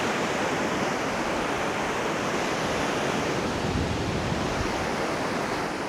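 Sea waves wash continuously onto a cold ocean shoreline, a steady broadband rush of surf with no pauses and no talking, fairly close and even in loudness throughout.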